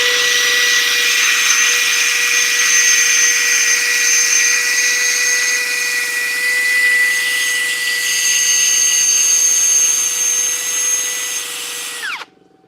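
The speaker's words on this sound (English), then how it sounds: "I gotta sand it a little bit more." Cherry wood turning on a lathe while being sanded, a steady loud whirring hum with high whining tones that holds for about twelve seconds before the machine winds down and stops.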